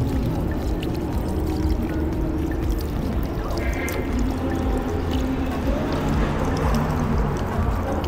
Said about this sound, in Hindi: ये स्प्रिंग वाटर बेसिकली होता है और वो उसी से पानी आ रहा होता है